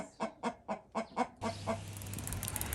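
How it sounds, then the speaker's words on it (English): A furry-feathered chicken near Islamabad, Pakistan, gives a close, loud series of about seven rhythmic clucks, which then give way to a broad outdoor rumble and hiss with no talking. "Never seen this kind of chicken in Islamabad. It's very furry."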